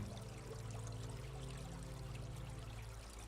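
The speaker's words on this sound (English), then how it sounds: "Let the sound of water carry you." Water flows in a steady, unbroken stream along a jungle path, soft and continuous with no voices over it.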